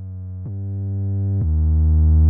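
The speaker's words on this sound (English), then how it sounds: "we just have this hip-hop sub-bass that kind of like swells" Hip-hop sub-bass synth from a lo-fi beat preset swelling in, a sustained low tone that grows steadily louder with two brief dips in its pitch, playing alone.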